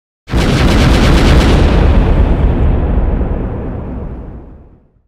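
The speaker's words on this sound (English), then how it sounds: "The Canadian gunners turn their guns. The order of fire is given, and they unleash their awesome firepower." Cannon battery fires in a fort battle reenactment: one loud, close blast whose rumbling roar spreads and slowly fades over several seconds, with no voices.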